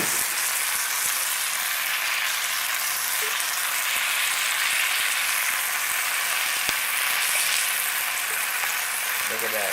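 A maitake mushroom steak sizzles and fries in a hot pan with sauce, giving a constant bright crackling hiss close up, with occasional small pops and scrapes throughout.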